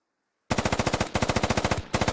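Automatic weapon fire in a military squad video game, three rapid bursts of loud, close shots in quick rhythm after a brief near-silence.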